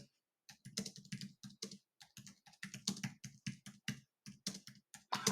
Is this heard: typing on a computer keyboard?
yes